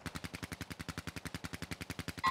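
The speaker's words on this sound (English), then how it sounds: "Yep, I'm shooting them." Steady rapid-fire automatic gunfire in Call of Duty: Modern Warfare II, a tight, even rhythm of about twenty shots in two seconds, moderately loud and continuous.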